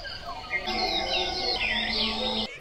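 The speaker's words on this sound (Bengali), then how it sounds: "গাছে গাছে পাখিদের কিচিরমিচির শব্দ" Birdsong at dawn in village trees, a steady chorus of high chirps and whistles running continuously and fairly close, with a low sustained tone beneath and no talk.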